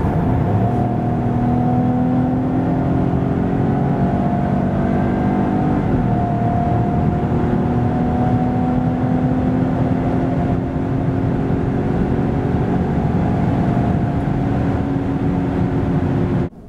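A small 1.2-litre three-cylinder PureTech engine in a 2022 Citroen C5 Aircross hums steadily as the car accelerates, its pitch climbing smoothly in a continuous, close drone before it cuts off at the end.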